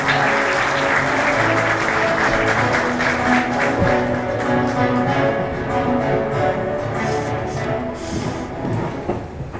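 An audience at an international trade congress opening applauds to welcome speaker Necdet Külünk to the podium, a thick, sustained wash of clapping that runs steadily throughout and eases only slightly near the end.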